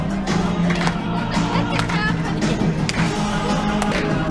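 Diners and staff clap in a lively rhythm in a cruise ship dining room as Baked Alaska is brought out. Sharp claps and taps sit over loud crowd chatter and cheering.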